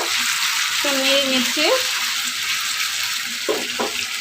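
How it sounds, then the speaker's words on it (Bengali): Chicken pieces fry in hot oil in a large pan, giving a loud, steady sizzle that runs the whole time, with brief speech over it. "আমি সব একসাথে দিয়ে ভেজে নেব"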